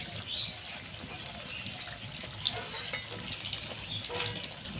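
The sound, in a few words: cauliflower pakoras frying in hot white oil in a kadai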